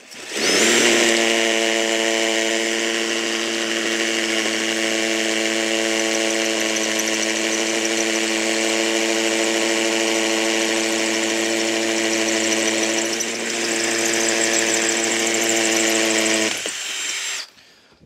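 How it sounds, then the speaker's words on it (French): Dewalt DCD709 hammer drill boring with an 8 mm bit, a loud steady motor whine held for about sixteen seconds with a slight dip midway before cutting off. "Et on va voir ce que donne le perçage avec cette machine."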